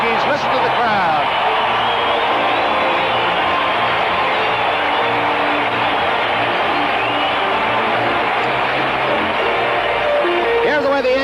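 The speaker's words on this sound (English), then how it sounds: "Listen to the crowd." A packed baseball stadium crowd roars at a 1978 World Series game between the Dodgers and Yankees, a dense sustained wash of cheering that holds steady and loud throughout, with a commentator's voice carrying over it.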